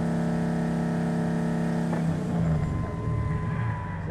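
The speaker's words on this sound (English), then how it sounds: "he keeps revving the car" A car engine in a Need for Speed film scene revs loudly with a steady idle drone, then climbs in pitch through a couple of throttle blips, close and alone with no talk.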